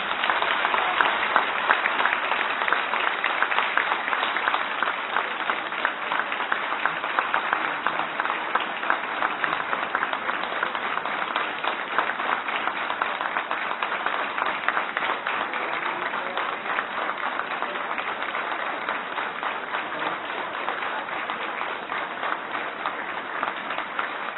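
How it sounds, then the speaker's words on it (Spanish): Applause from an audience at an education ministry results presentation in Honduras, honoring a professor: a continuous, even wash of many hands clapping, moderately distant and fairly quiet, holding steady for the whole stretch. "Fuerte el aplauso para el profesor Esponda"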